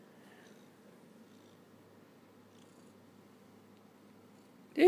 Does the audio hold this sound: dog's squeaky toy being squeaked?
no